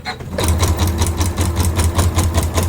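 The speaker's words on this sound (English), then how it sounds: "So I'm just stitching my fabric and that ribbon together" A sewing machine stitches fabric and ribbon together for a mesh wash bag, running loud and close with a fast, steady mechanical pulse that starts within the first half second and continues unbroken.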